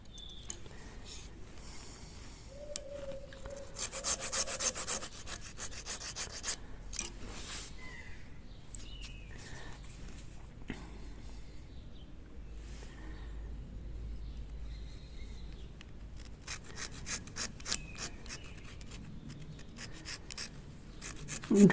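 A dyed pink alabaster necklace piece is gently rounded and sanded by hand, giving soft, faint rasping and rubbing strokes close by, with small scrapes and pauses and no talking.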